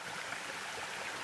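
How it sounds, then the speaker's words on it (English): Fresh mountain stream water flowing steadily through winter jungle in Australia, a continuous soft rushing and trickling wash heard close and alone, with no voices. "drinkable fresh water that's coming straight out of a mountain"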